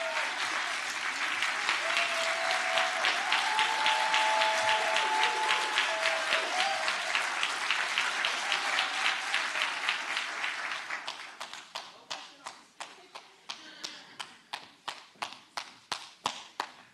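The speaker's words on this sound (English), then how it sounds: "I'm clapping for the rest of my life" Conference audience applauding a speaker: dense, loud clapping that gradually thins into scattered individual claps toward the end, with some voices mixed in.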